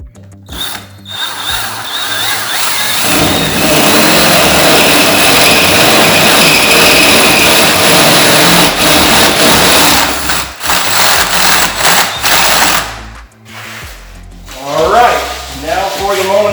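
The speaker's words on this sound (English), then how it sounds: "A wooden paddle bit goes through this pretty clean." A power drill fitted with a wooden paddle bit bores through wood while building a barndominium master bathroom shower, a loud sustained grinding whir lasting several seconds, then stopping in short bursts with clicks and pauses.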